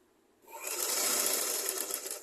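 A sewing machine stitches a skirt, starting after a brief quiet moment and then running in one steady, fast, close whirring burst to the end.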